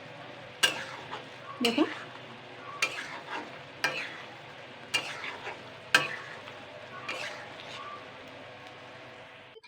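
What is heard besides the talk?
stirring thickening sugar syrup in a pan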